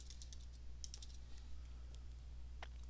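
Computer keyboard being typed on, a quick run of faint clicky keystrokes over a low steady hum, with a pause and a couple of final taps.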